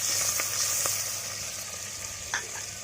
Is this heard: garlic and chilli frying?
yes